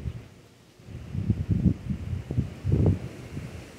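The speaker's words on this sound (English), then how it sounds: "Could you shut the fuck up, wind?" Wind gusting across an exposed ledge, buffeting the microphone in low rumbling bursts that rise and fall, strongest in a few loud surges.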